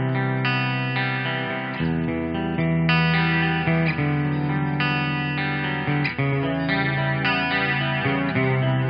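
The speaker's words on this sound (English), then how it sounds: "We've got a nice chorus effect on there. The reverb adds that extra sense of dimension to it." Clean electric guitar played through a home-studio chain with chorus and reverb, strumming sustained chords and arpeggiated notes with a shimmering, spacious tone, steady and fairly loud throughout with no talking.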